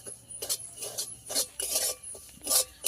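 Semolina is stirred and lightly toasted in a pan, with quiet, rhythmic scraping strokes of a spoon against the metal. Soft, irregular bursts come every half second or so, close by.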